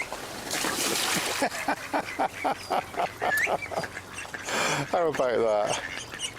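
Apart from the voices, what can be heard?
mother duck and drakes flying in, quacking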